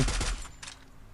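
Gunfire in the video game Free Fire: a quick cluster of loud shots, then a brief pause and one more fainter shot fading into quiet, with no voices.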